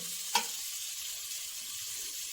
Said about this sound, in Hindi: अब मैं इसमें शिमला डालूंगी, थोड़ा सा इसे हमने रोस्ट करके ताकि ये नरम हो जाए